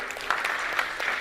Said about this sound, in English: Can you give yourself a big applause?